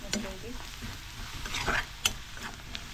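Malvani masala being stirred in a pan on a home stove, a soft scraping and gentle sizzle with a few sharper clicks of the spoon against the pan, close by and alone.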